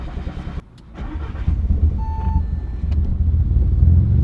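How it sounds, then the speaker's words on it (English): An Audi/VW car engine with misfires cranks and catches, then settles into a low, steady rumble that grows slightly louder, with a brief electronic beep partway through. "we're gonna start the car"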